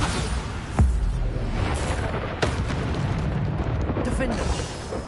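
Bombarda spell explosions in Hogwarts Legacy combat: sharp booming blasts over a constant roar of battle noise, with a voice shouting spell names throughout.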